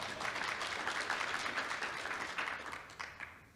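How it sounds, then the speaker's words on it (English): An audience claps at a regulatory talk in a dense, steady round of applause that tapers off near the end, with no talk over it. "You can clap."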